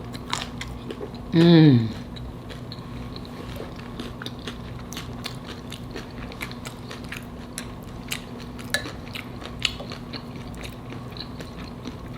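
Someone bites into and chews shrimp tacos up close, with soft crunchy, clicky chewing sounds and a brief hummed murmur of enjoyment.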